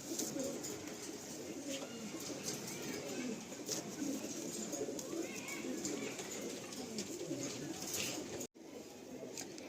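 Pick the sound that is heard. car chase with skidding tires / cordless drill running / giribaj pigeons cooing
giribaj pigeons cooing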